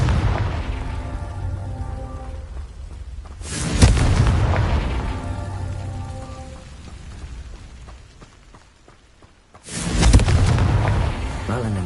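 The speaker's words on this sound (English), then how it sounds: "Confringo." A Confringo spell in Hogwarts Legacy goes off as two loud, deep booming blasts with rumbling, crackling tails, the second arriving several seconds after the first.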